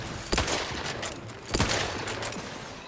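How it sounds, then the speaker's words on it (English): Enemies firing acid attacks in The Outer Worlds 2, two loud bursty blasts about a second apart over continuous noisy game background, with no talking. "They're shooting acid at me."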